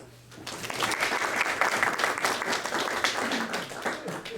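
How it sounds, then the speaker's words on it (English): Lively clapping from an improv comedy show audience as a guest comes on stage. It rises quickly, holds strong and dense, then eases slightly near the end. "Please, come on, and round of applause"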